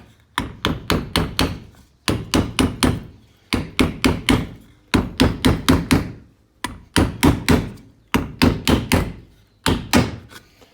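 Hammer tapping a stick to drive out a wheel bearing on a vintage camper trailer: sharp, close knocks in quick bursts of four to five, repeating steadily with short pauses between groups.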